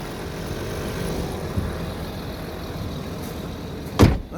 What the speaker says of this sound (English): Got this compressor running, feeding air back to the tank.